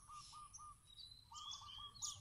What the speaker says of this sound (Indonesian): dengar tak? Itulah bunyi burung.